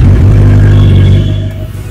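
A superbike fitted with a Yoshimura exhaust idles close by with a loud, deep, throbbing rumble that eases slightly toward the end.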